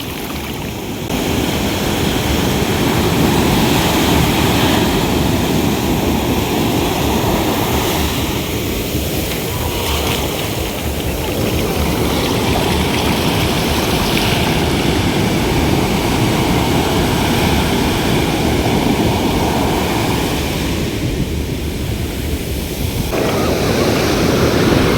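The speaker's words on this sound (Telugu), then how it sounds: "మీకోసం నేను వేవ్ సౌండ్ కూడా రికార్డ్ చేశాను" Ocean waves on a Goa beach roll and wash ashore in a steady, loud, broadband surge, with slight swells and some wind buffeting on the microphone, and no voices.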